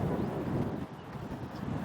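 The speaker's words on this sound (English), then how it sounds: "it's a little windy today" Steady wind gusting across a microphone at Mono Lake in the desert, a low continuous rumble and buffeting that holds throughout with a slight dip midway.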